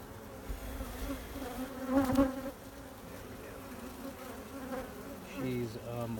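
Dense, steady buzzing of many honey bees packed close together around a mated queen in a hive, a continuous hum that swells briefly before settling back, with no voices.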